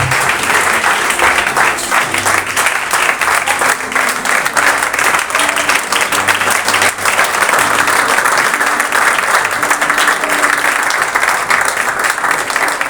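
A church congregation applauding in praise of God, with sustained, dense clapping from a large crowd filling the whole stretch with even loudness and a low murmur of voices underneath.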